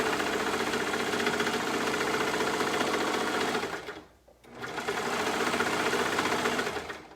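A sewing machine stitches around the top edge of a fabric piece for a sweatshirt, a steady loud mechanical whir that stops briefly midway, then resumes at the same even pace.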